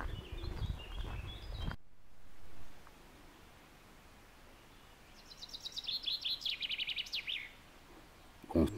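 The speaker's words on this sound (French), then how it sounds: "Avec des petits oiseaux qui m'accompagnent tout le long du chemin." Small birds chirp and trill in bursts along a quiet nature trail, fairly faint and somewhat distant, after a stretch of rustling noise and a sudden drop to near silence.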